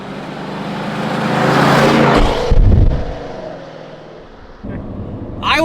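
A Ford F-150 pickup with a Flashark Racing aftermarket exhaust revs hard through a loud, throaty exhaust, rising to a rumbling peak, then settling to a steady idle before a brief blip.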